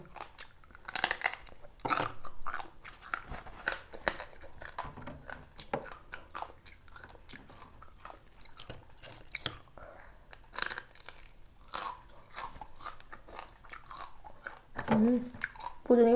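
Someone eats a raw crab whole, with close, irregular crunching, biting and chewing sounds, interspersed with soft speech and occasional louder cracks.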